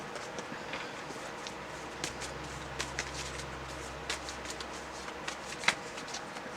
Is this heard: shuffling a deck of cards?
yes